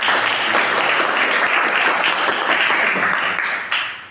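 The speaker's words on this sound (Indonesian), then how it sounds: "Tepuk tangan dong buat teman-teman." Classroom applause for students after a school website project presentation, a steady wash of many hands clapping for about four seconds, fairly close and even, with a brief swell near the end.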